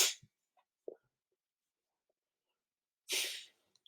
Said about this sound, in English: I'm going to sneeze again, if you'll pardon me.